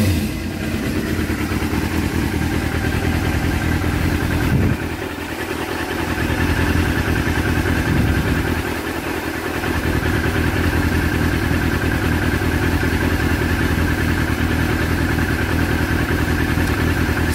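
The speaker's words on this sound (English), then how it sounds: "So I'll start this bike up." A 250cc-plus motorcycle engine starts and settles into a loud, steady idle, close by, with a brief dip in the engine note partway through and no speech.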